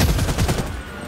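Rapid AK47 automatic fire in the online shooter game Blood Strike, a loud close burst of rattling shots that tapers off after about half a second, with no speech.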